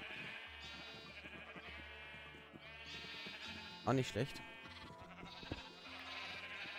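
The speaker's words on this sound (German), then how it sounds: "Oh, die ersten Schafe rennen schon rüber." A Minecraft sheep bleats in one short, wavering burst partway through, sitting over steady background music while someone talks before and after.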